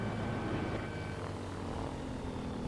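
A video game airplane drones steadily in flight, its propeller engine a continuous broad roar with no pauses, loud and unbroken throughout.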